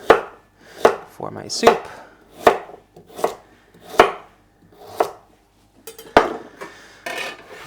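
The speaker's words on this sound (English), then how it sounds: "I'm just going to cut this into roughish chunks" A knife chops a vegetable into rough chunks for soup, with about a dozen sharp, close cuts in a steady, uneven rhythm and a few soft spoken words near the end.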